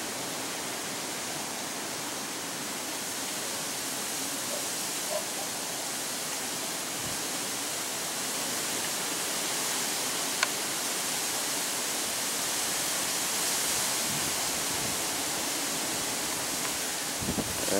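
Surf on a rough, wind-whipped ocean beach breaks as a steady, broad roar of waves, fairly distant and continuous with no talk over it.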